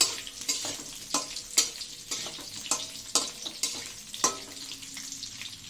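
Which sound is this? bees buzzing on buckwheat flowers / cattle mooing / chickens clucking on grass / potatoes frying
potatoes frying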